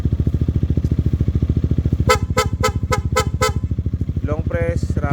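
A PIA aftermarket horn fitted to a Yamaha XMAX 300 scooter sounds a rapid string of about six short, sharp toots over the steady pulsing idle of the engine, followed by a brief voice.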